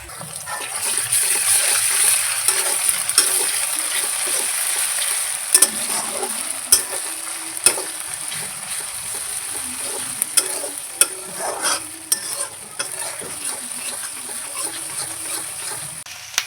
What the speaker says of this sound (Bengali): এবারে দিয়ে দিব আমি আদা রসুনের পেস্টটা